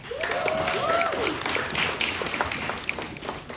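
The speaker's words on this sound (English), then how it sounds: "so give yourselves a round of applause." An audience at a Black art fair in Toronto breaks into a round of applause, a broad wash of many hands clapping with a few cheering voices at the start, then settling into steady clapping.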